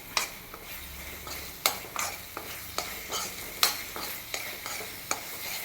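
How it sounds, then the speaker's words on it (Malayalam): A spoon scrapes and clacks steadily through a garam masala mix frying in oil, about a dozen sharp strokes over a low, continuous sizzle, close and alone. "നന്നായിട്ട് എണ്ണ തെളിയുന്നത് വരെ നമ്മളിങ്ങനെ ഒന്ന് ഇളക്കി കൊടുക്കണം."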